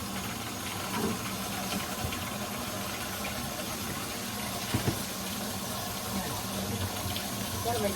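Tap water pouring steadily into a mini washing machine tub, a continuous close splashing rush with a couple of small bumps partway through.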